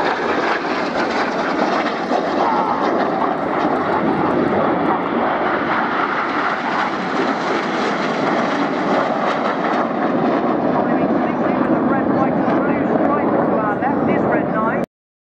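Red Arrows jets roaring steadily overhead at an air display, one lone jet setting up a manoeuvre, a loud continuous broadband engine roar with crowd and commentary underneath throughout.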